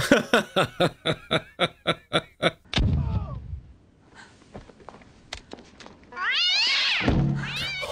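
Several cats meow in quick succession, a rhythmic series of about ten loud meows, followed by crashing noises and then a longer drawn-out yowl in a scene from the 1998 film Le Détonateur.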